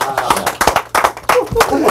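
Audience applause in a live interview setting, a few seconds of uneven, close hand claps in quick bursts, mixed with some voices.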